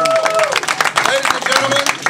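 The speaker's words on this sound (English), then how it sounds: "Give her a round of applause." A live audience at a professional wrestling event claps steadily for a couple of seconds while voices and crowd noise carry over the top.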